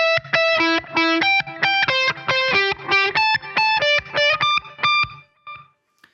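Distorted electric guitar picking a quick single-note riff high up the neck, from a song, bright repeated notes in a steady rhythm with a faint delay echo trailing off at the end.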